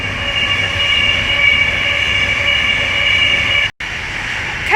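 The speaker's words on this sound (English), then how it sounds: "we're about to have the Avanti West Coast service from Manchester Piccadilly to London Euston pass by" An Avanti West Coast Pendolino from Manchester Piccadilly to London Euston passes Willesden Junction on the West Coast Main Line, a loud steady roar of traction and wheels with high whining tones, close by, briefly cut near the end.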